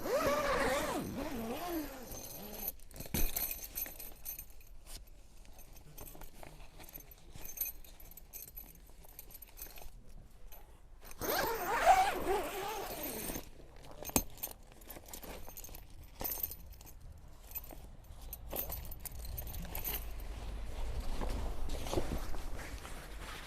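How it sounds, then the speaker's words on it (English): Zips on an awning panel are undone, giving repeated scratchy rasps and rattles of metal pulls mixed with handling noise, close and fairly loud throughout. "And to remove them, nice and simply, you'll take 2 zips one way and 2 the other."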